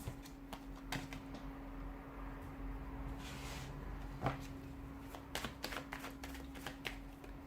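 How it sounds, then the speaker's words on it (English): Tarot cards are shuffled by hand close to the mic, quiet riffling and sharp flicks in irregular bursts over a faint steady hum, no talk. "give the cards a shuffle"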